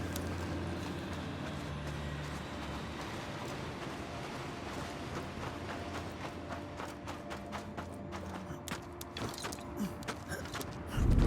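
Horse hooves clip-clop at a steady walking pace in the video game Banishers: Ghost of New Eden. Creaking and mechanical sounds mix in, and a louder sound breaks in right at the end.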